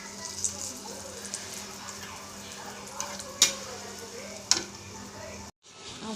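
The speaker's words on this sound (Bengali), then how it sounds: "ভেজে অল্প অল্প তেল দিয়ে পুরো মাখনের মতন খেতে হয় এই মিষ্টি আলুর পরোটা" A sweet potato paratha fries in a little oil on a pan, a soft, steady sizzle with a few sharp utensil clicks and a voice talking over it, cutting off abruptly near the end.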